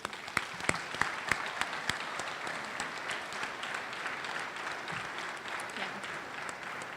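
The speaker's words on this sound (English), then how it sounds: "And a round of applause." A crowd breaks into applause, sharp early claps merging into sustained, even clapping that continues throughout at moderate distance.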